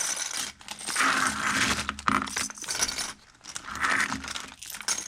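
Metal snap fasteners from a flea market haul being handled and shaken, giving a steady jingling, clinking rattle of small metal pieces, fairly close and continuous with brief pauses, without talk.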